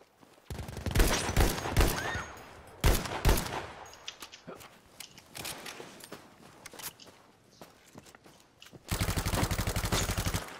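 Rifle gunfire in Battlefield V Firestorm, with bursts of rapid shots and single cracks across a village, loud and close, interspersed with quieter footsteps and movement, and a dense sustained volley near the end.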